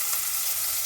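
Spices frying in hot oil for pudina chicken give a steady, close, even sizzle with no voices over it.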